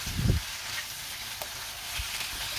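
Marinated beef dropped into a hot pan for Korean-style japchae, a brief thump followed by a steady, even sizzle that continues close by with no voices.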